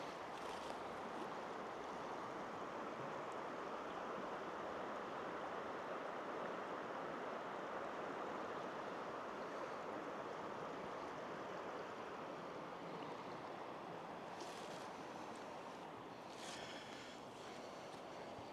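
A clear river flows past a large creekside campsite, a faint, continuous broadband rush of moving water that holds steady throughout, with a couple of brief higher hisses near the end and no talking.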